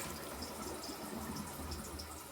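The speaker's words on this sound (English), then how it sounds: "flushes and then it starts refilling and we shut off" Toilet tank refilling with water after a flush, its float valve being replaced because it would not shut off; a steady, moderately close rush of running water continues without pause.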